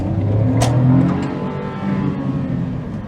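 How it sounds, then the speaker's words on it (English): Engine of a 2007 Smart Fortwo W451 Passion with automatic-shifting gearbox downshifting while coming to a stop, a close mid-pitched engine note dropping and settling, heard alone without talk. "As I come to a stop, I don't have to downshift at first,"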